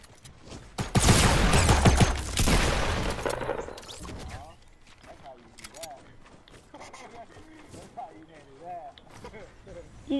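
Shotgun blasts and gunfire from a battle-royale-style video game, a burst of loud overlapping shots and clatter in the first few seconds that fades into quieter game sounds with people talking over them.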